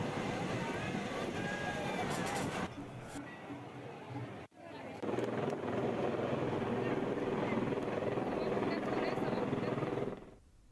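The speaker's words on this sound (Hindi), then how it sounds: "बागेश्वर में मुख्य आकर्षण का केंद्र हेलीकॉप्टर बना हुआ है" A helicopter offering sightseeing rides at the Uttarayani fair in Bageshwar drones steadily and loudly for about ten seconds, with crowd chatter and wind noise around it and a brief dip partway through.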